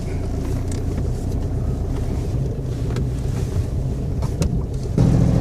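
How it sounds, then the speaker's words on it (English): A Volkswagen Golf driving back up a track gives a steady low engine and road rumble with wind buffeting the microphone, continuous and fairly loud, growing slightly heavier near the end. "I'm gonna drive the Golf back up."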